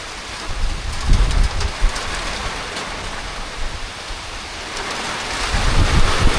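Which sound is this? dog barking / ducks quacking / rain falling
rain falling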